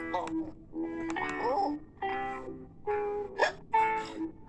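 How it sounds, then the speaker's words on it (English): An animated character hiccups several times in quick succession, short voiced jolts mixed with babbling, giggly vocal sounds and exclamations throughout. "Cyril has got hiccups."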